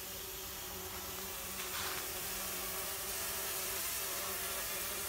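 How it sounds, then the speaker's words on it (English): Bumblebees buzz continuously in a dense, droning hum inside a packaged box, close and enclosed, with no voices. "And there's the bees."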